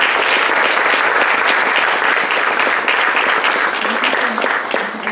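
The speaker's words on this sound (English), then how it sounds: "Please give her a big round of applause to Dr. Kate Sitchio." An audience at a talk on artificial intelligence and inequity applauds a speaker, producing loud, dense, continuous clapping that holds steady for several seconds before easing slightly at the end.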